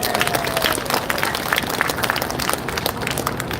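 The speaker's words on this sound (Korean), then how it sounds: "감사드릴 마음으로 한번 박수를 보내십시다." A crowd at an outdoor citizens' and youth march in Seoul claps steadily, dense broadband applause holding at an even level throughout with faint murmuring underneath.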